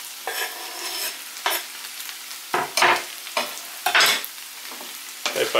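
Sliced bell pepper is added to carrots and honey frying in a pan, giving a steady close sizzle broken by repeated scraping stirs at an irregular rhythm, with no talking.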